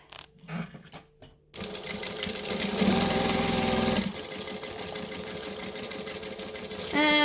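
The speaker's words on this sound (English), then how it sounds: "top stitch it along that top edge so that the pocket sits where it's meant to" A sewing machine runs steadily and close up, top stitching along the top edge of a bag pocket, a continuous mechanical whir lasting several seconds after brief handling noises.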